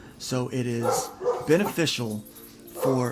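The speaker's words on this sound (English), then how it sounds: "Oh, I'm sorry about the dogs." Dogs bark in short repeated bursts, a couple of yips near the start and again at the end, fairly close, while a person keeps talking over them.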